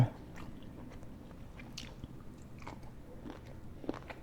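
Fish balls with dipping sauce being chewed close to the mic, soft wet bites and squishy mastication repeating at an irregular pace over quiet room background.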